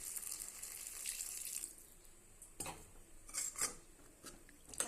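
Water is poured into a pan while making radish sambar, a faint splashing trickle heard alone in a quiet kitchen.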